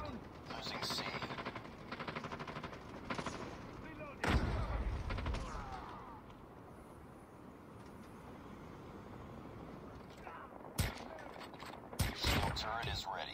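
Game gunfire from Call of Duty Mobile, with dense bursts of shots and loud sharp blasts, an especially strong one near the middle and more near the end, over busy battle noise and game voices.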